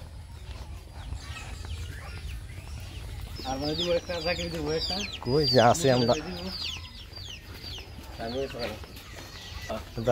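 Chickens and ducks cluck and call in a yard in Raipura, Narsingdi, with a rooster-like cry partway through, while people talk nearby.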